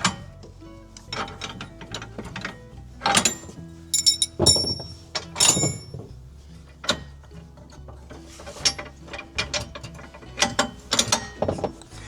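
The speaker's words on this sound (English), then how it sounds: "Pull the pins out." Hitch pins are pulled out of a CURT PowerRide hitch, producing a series of irregular metallic clicks, clanks and ratcheting rattles, close and fairly sharp, with short pauses between bursts.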